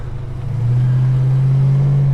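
A Holden HK car's engine rises into a steady loud drone as the wheels briefly spin, a close continuous roar building over two seconds with no speech.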